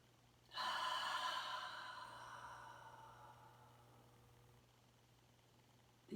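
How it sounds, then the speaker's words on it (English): A single long, loud exhale from a centering breath in a yoga session, a sudden breathy rush that fades slowly over several seconds, close to the microphone against a faint low hum. "These will be done inhaling through the nose and exhaling out the mouth with as loud sound as you want"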